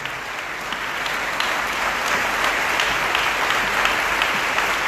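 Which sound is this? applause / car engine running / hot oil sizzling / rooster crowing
applause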